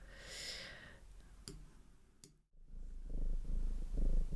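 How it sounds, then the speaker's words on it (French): Domestic cat purring close up, a soft low rhythmic rumble that drops out briefly midway, then resumes steady and slightly stronger. "Je vais vous mettre le petit ronronnement du chat."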